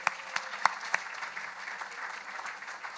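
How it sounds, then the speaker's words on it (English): Closing applause from the audience for the authors at the Brooklyn Book Festival, a crowd clapping steadily with a few sharp nearby claps at the start, fading slightly toward the end. "one last great round of applause for all these fantastic authors"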